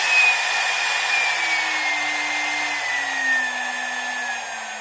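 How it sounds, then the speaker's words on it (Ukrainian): A CNC spindle runs at high speed, around 24,000 rpm, producing a loud, steady, close high-pitched whine with a faint tone slowly sliding lower, alone without talk. "Ну от так шпіндель працює, все працює"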